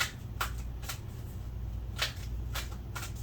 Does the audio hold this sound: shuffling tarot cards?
yes